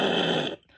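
A voice imitates the growl of the Jurassic Park T-Rex, a low rough rumble that holds for about half a second and then cuts off, leaving faint breathy noise.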